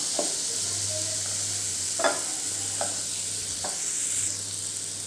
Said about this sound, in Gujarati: હવે બંને બ્રેડને આપણે પલટાઈ દેવાની છે બીજી બાજુ પણ સરસ શેકાવાનું